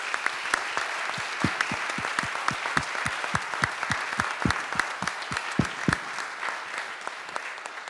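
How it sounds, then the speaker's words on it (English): A room full of people applauding at a city of Wilmington gathering, with dense clapping and some louder individual claps close by, steady for several seconds. "So once again, a round of applause and thank you very much."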